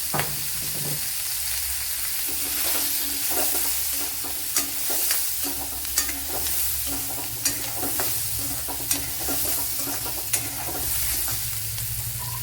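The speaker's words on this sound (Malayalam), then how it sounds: "ഒരു അര ടീസ്പൂൺ നല്ല ജീരകം ഇട്ട് കൊടുക്കുക ചെറിയ ജീരകം" Half a teaspoon of small cumin seeds sizzles in hot oil for a pumpkin masala curry, a steady crackling hiss broken by regular sharp scraping clicks of a spoon against the pan.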